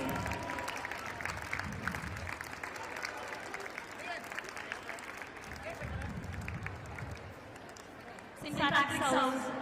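Children cheer loudly at a school annual sports meet, a broad sustained crowd roar with scattered clapping that swells near the end, close and continuous.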